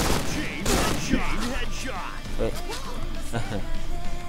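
Rapid bursts of Tar-21 rifle fire in the shooting game Point Blank crackle repeatedly under someone talking over them.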